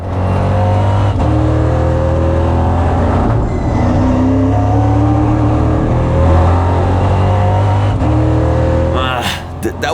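A EuroNASCAR stock car at Valencia roars loud and close from the cockpit, engine droning steadily as it accelerates through gear changes on track, with someone talking over it.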